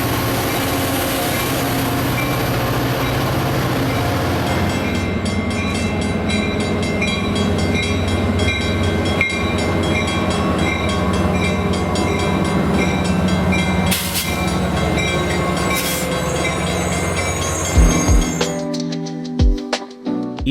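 Amtrak San Joaquin Train 710, an F40PH locomotive hauling Amfleet cars, switches off the SP at Port Chicago, its loud engine drone and rolling wheels rumbling steadily close by, with a brief horn-like tone near the end.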